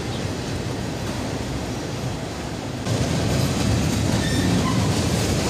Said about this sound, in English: Another manifest train, this time heading northbound.